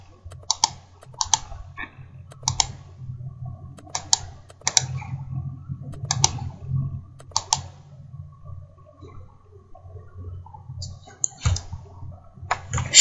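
Keys tapped on a computer keyboard during Photoshop editing: sparse, irregular clicks and short bursts of keystrokes, close and fairly crisp over a low steady hum.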